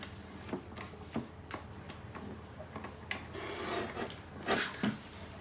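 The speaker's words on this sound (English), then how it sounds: "I will trim it, and I will just put the corner punch, and I'll do that." Paper being trimmed and a corner punch worked on an album page while crafting a tote folio album, heard as soft rasping rubs and scraping strokes with a few sharper clicks, close and fairly quiet with no talking.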